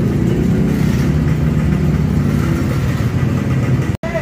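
A restored 2008 Honda Beat scooter with a carburetor engine runs steadily at close range, a continuous buzzing idle with slight rhythmic pulsing, ending in a brief dropout.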